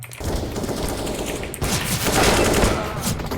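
Dense bursts of Counter-Strike: Global Offensive gunfire on the Mirage map, including Desert Eagle and Glock shots, crackle in rapid overlapping volleys, loud and continuous with a brief dip partway through.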